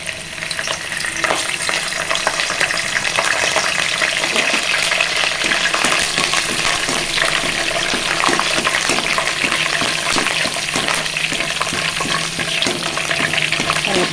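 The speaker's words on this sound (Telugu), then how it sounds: "కరివేపాకును కూడా ఇలాగా ఫ్రై చేసుకోవాలండి" Curry leaves fry in hot oil for a Telangana-style bitter gourd fry, a dense, steady sizzle with crackling pops holding loud and close throughout, with no talking.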